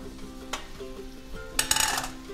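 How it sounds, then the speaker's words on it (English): Asparagus, broccoli, orange pepper and baby bella mushrooms tipped into garlic and oil in a pan: low clatter and stirring, then a sudden loud burst of sizzling near the end, no speech. "I'm adding all of those into the garlic and"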